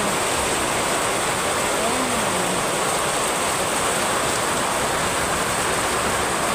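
Steady, dense rain hisses continuously nearby in Bicol, Philippines, a constant wash of noise with no breaks.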